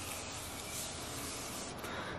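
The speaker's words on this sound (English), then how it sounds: "the last thing I do is set my face with this Morphe Continue Spray." A continuous close hiss of Morphe Continuous Setting Mist makeup spray misting without pause for about two seconds.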